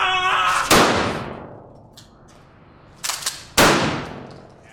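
Winchester 1897 trench gun shotgun firing in a video game, two loud close blasts a few seconds apart, each with a sharp crack and a fading echo, with a pump-action rack between them.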